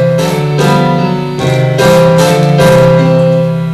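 Computer-generated music from a non-temporal RBM model plays as a string of sustained, harmonically rich chords, each held under a second before shifting to the next, clear and loud with no voices.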